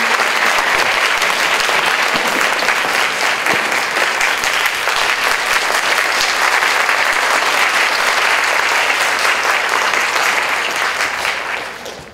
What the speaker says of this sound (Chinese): 再让我们以最热烈的掌声欢迎张家渊老师以及陈文茜老师